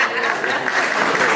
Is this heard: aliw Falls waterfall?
no